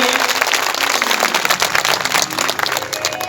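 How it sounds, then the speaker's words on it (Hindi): Loud, dense applause from devotees at a Shiv Mahapuran katha gathering, a continuous wash of clapping filling the whole moment without voices. "एक बार जोरदार तालियां उन भक्तों के लिए"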